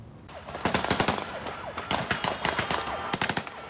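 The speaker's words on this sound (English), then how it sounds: "Volleys of gunfire scatter people in panic." Volleys of gunfire at Kabul airport's main terminal as Taliban fighters scatter a crowd, rapid bursts of close, sharp shots in quick clusters, repeated over several seconds with a wailing tone running beneath.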